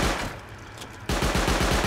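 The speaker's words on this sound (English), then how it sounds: "we'll go ahead and hit it with a high-velocity rocket here" A high-velocity rocket striking a Bradley APC in the game Rust, heard as a sudden loud impact that gives way to dense, continuous rapid gunfire and rumbling over an already noisy battle background.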